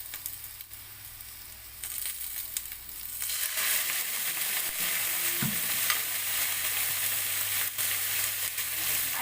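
Vegetables are sautéed with soy sauce for a vegetable manchurian, and a loud, steady sizzle and frying hiss rises after a quieter opening. Stirring scrapes are heard along the way, with no talking.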